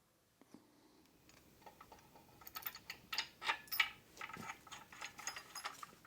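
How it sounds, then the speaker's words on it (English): Ratchet wrench tightening the crankshaft main bearing caps on a Land Rover 2.25 engine during a rebuild, giving quiet close clicking that builds into a run of louder, irregular ratchet bursts with no talking. "Just tighten them down with your normal ratchet"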